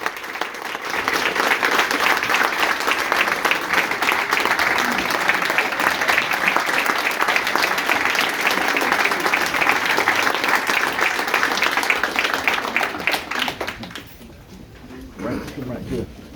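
Audience applause for a guest at a live event: sustained, dense clapping from a crowd with cheers running steadily for about thirteen seconds, then fading, with a voice starting to talk at the end.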